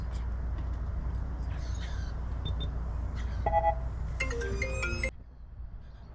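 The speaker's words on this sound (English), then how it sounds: "Oh, telephone ringing." A telephone rings in a garage workshop during work on a Jeep WJ, a couple of short electronic ringtone bursts over low background hum, fairly faint and distant.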